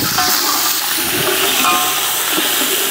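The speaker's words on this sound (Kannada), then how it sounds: "ಶುಂಠಿ ಬೆಳ್ಳುಳ್ಳಿ ಪೇಸ್ಟ್ ಹಾಕ್ತಾಯಿದ್ದೀನಿ." Ginger garlic paste hits hot oil in a pan during outdoor cooking of a country chicken fry, giving a loud, steady hiss and sizzle that runs throughout without a break.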